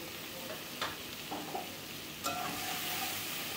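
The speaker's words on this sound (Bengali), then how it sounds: "চিংড়ি মাছগুলোকে কিন্তু আমি ভালোভাবে ভেজে তুলে নেব।" Prawns fry in hot oil for a Bengali potol chingri dish, giving a soft, continuous hiss with a couple of brief clinks and scrapes from the pan, heard up close without talk.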